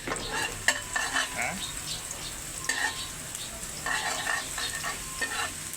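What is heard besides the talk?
garlic frying in oil on low heat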